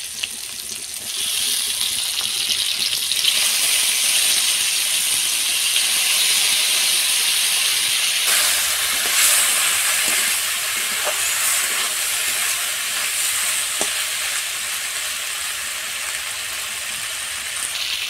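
Boiled macaroni dropped into a pan with a few tomato pieces sizzles in a loud, steady, close hiss that runs throughout, with faint occasional clicks beneath it.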